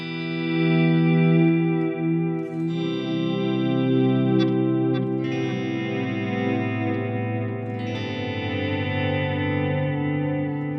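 Sustained electric guitar chords ring out through a Strymon El Capistan tape delay pedal, echoing repeats trailing behind them, warm and slightly wobbly, with no voices.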